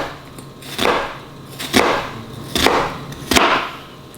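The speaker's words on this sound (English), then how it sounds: "as the onion is diced, the pieces move around on the cutting board" Four spaced, crisp knife strokes dicing an onion on a cutting board, each a sharp thud-and-slice about a second apart, close and clear over faint background noise.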